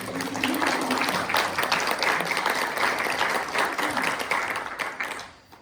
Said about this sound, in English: We can clap for it.